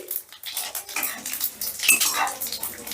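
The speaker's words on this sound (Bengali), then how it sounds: "এবারে ফোড়নটাকে একটু নাড়াচাড়া করে নিচ্ছি।" Whole spices (cardamom, cinnamon, dried red chillies, bay leaves and cumin seeds) are stirred in hot oil in a pan, close uneven scraping and clinking of a utensil against metal over a light crackle, no talking.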